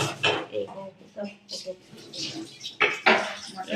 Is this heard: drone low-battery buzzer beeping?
no